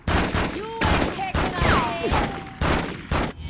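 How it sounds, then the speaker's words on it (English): Bursts of gunfire in a city gunfight in the PS2 game Spider-Man 2, loud repeated volleys broken by short gaps, with shouting voices and whooshing swings layered over the shots. "There's some kind of gunfight happening over there."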